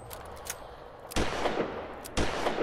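Souped-up pistol in Fallout 4 dealing 750 damage per shot: two loud, sharp gunshot blasts about a second apart, each with a ringing tail, over faint background crackle.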